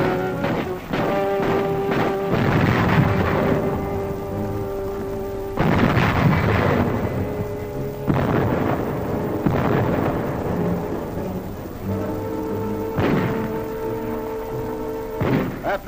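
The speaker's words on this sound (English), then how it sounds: "The Nazis direct their fire across the harbor." Artillery bombardment of the Gdynia harbor defenses in 1939, with heavy booms and rumbling blasts arriving in repeated bursts, layered with a steady roar and some tonal hum, loud and continuous throughout.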